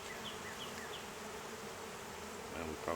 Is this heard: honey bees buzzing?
yes